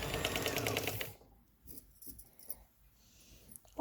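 A sewing machine runs steadily for about a second as it stitches back fitting loops onto fabric, then stops, leaving quiet handling noises and faint clicks.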